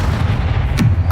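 A Bombarda blast spell goes off in Hogwarts Legacy, a booming, artillery-like burst amid continuous loud rumbling spell-combat noise, with a sharper impact near the end.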